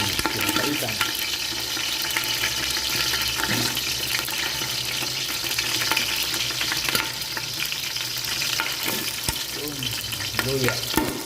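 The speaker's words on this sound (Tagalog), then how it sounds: "magigisa na tayo ng ano, ng ating sibuyas at bawang para sa ating pinapaitan" Onion and garlic sautéing in a pan for pinapaitan, a steady dense sizzle running throughout with occasional stirring scrapes, close and fairly loud, no talking.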